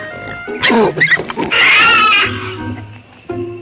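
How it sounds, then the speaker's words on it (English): A pig squeals loudly and harshly in close range, a burst of shrill, angry grunts rising into a long piercing scream before fading. "That's the sound of an angry pig."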